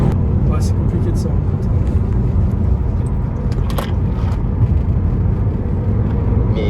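Heard from inside a Peugeot RCZ accelerating through a bend on a road: a steady low engine and road rumble runs throughout, with people talking over it.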